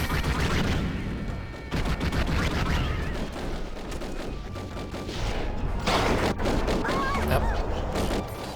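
The Ripper gun firing in the shooter Raze's Hell, a sustained stream of rapid shots and impacts with crashing bursts, loud and steady across the clip amid other game effects.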